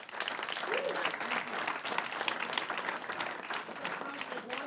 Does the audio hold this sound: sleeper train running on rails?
no